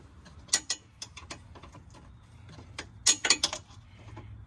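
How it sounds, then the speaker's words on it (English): A wrench tightening a front strut bolt on a 2013 Dodge Journey 3.6 SXT gives faint, sparse metallic ratchet clicks in short bursts over a quiet background. "now I need to tighten that third bolt"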